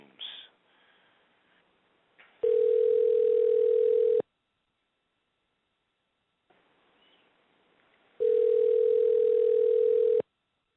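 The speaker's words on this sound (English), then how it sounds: "We're going to call Mr. Chris Holmes." Telephone call placed to a radio guest, with two long steady ringback tones separated by silence, each preceded by faint line noise and clicks, heard alone and fairly loud.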